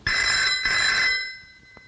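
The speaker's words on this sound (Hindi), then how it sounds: "देखो किसका फोन है।" A telephone bell rings in two loud bursts with a short gap, then fades out, with no talk over it.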